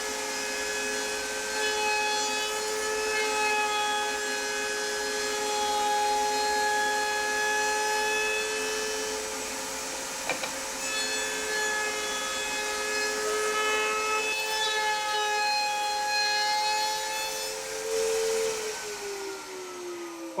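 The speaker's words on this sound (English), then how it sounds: "I'm going to round over the corners on the router table" A router table rounding over the corners of a wooden push stick blank, a steady loud motor whine running the whole time with faint cutting noise and a brief pitch drop near the end.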